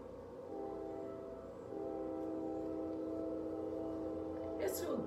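A train rumbles past steadily with a sustained low horn blast, heard from a distance indoors, ending in a brief clatter.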